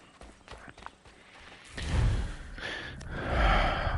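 Rhythmic hoof clip-clops from a galloping horse in the video game Assassin's Creed III, with a game-like, processed quality; a heavier rushing sound and a snort-like burst come in partway through.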